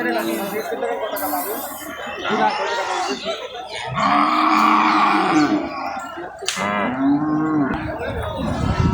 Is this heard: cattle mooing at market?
yes